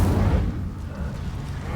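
The Incendio fire spell cast in Hogwarts Legacy, a single deep whooshing burst of flame with a heavy low boom at the start that fades into a rumbling tail.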